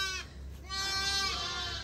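Sheep bleat close by on a farm, with two short wavering calls one after the other against faint background noise.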